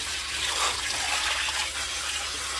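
Hot tap water gushing steadily into a kitchen sink in a New Mexico home kitchen, a constant loud rushing pour at close range with no talk.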